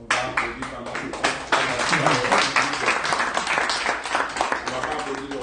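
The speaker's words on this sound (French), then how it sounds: "On va applaudir pendant ce temps." An audience at a lecture on electoral culture applauds steadily for several seconds, a dense close wash of many hands clapping with voices mixed in.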